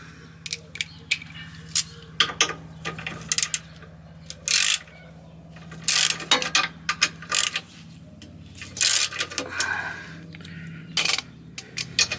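A ratchet turns in short bursts of rapid clicking, with pauses in between, as the sway bar bracket and bushings are removed from a Subaru Crosstrek, close and fairly clear.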